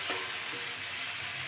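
Potato and cauliflower pieces fry in hot spiced oil for a tilapia curry, giving a quiet, steady hiss of sizzling with faint stirring scrapes and no voices.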